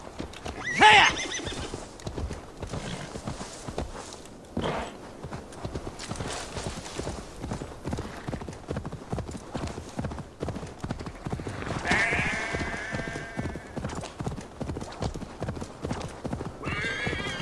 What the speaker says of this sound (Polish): tutaj za pomocą naszego konia tutaj będziemy szybciej się poruszali